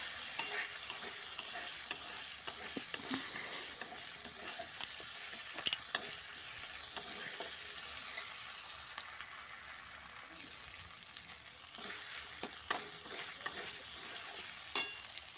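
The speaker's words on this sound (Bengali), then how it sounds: "তো এবার তো মশলাটা আমি কষিয়ে নেব, কষতে যতক্ষণ না তেল ছেড়ে আসছে মশলাটা কষতেই থাকো।" Spice paste for a Bengali chicken curry frying in hot oil in a pan, a low steady sizzle with a spatula scraping and stirring at intervals, faint and close with no voices.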